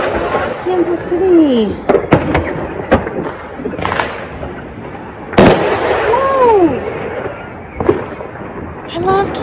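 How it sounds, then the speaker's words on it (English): Fireworks burst over Kansas City, heard from a back porch: several sharp cracks and booms spaced across the clip, one loud, with a woman exclaiming excitedly over them. "Oh, you guys, fireworks. Fireworks!"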